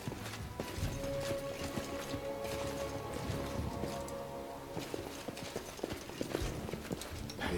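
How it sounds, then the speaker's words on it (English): Horse hooves clip-clop in a steady walking rhythm under a dense layer of background sound effects, with a faint whinny mixed in. "Clip clop, clip clop."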